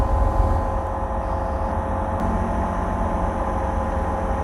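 A Bristell light aircraft engine drones steadily at 5,400 RPM in flight, a constant loud cabin hum with no breaks or changes.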